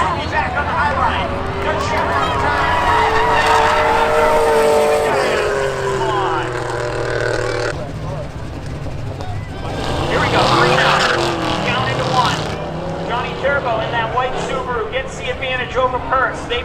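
Race cars roar around Seekonk Speedway during spectator drag racing, engines rising and falling as they pass, with tire squeal at times, under continuous excited commentary over a loudspeaker.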